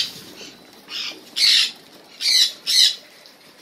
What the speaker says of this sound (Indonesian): Itu ada jalak itu sendiri.